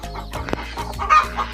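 Hens clucking in a backyard poultry setup with a rooster close by, several short clucks and calls following one another, close and moderately loud, no voices.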